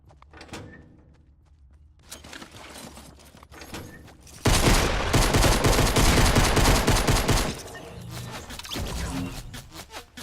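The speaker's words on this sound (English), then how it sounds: "How did my pump shotgun shot not kill him?" Loud burst of gunfire from a pump shotgun in the video game Fortnite Battle Royale: a dense, sustained blast of shots near the middle, with quieter scattered game noise before and after.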